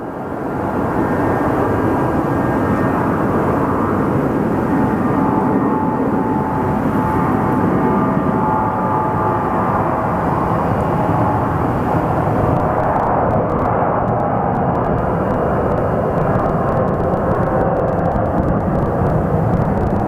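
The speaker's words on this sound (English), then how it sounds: "And then our Durango flight is going" Airliner taking off on a flight to Durango from Phoenix Sky Harbor, its loud, steady jet roar filling the air throughout without letup and with no voices over it.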